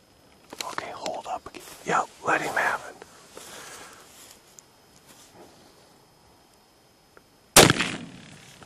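A single loud, sharp rifle shot cracks out close by during a hunt, following a stretch of quiet whispered voices and near silence.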